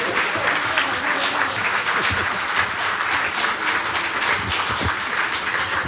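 Sustained applause from an audience at a joint municipal meeting in Madison, New Jersey, with dense, steady clapping throughout, loud and close.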